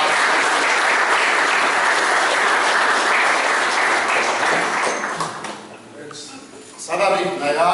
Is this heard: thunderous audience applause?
yes